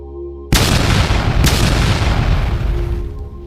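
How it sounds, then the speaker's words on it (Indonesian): A smoke bomb goes off with a sudden loud boom, followed by a second sharp blast about a second later, then a dense roaring hiss that slowly fades. "Bom asap meledak dan menutupi pandangan."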